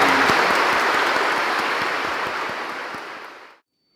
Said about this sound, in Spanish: aplauso por nuestra patria Guatemala.